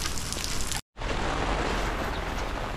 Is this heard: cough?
no